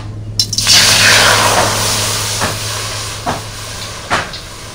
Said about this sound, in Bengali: এবার দিয়ে দেবো কড়াইতে জল।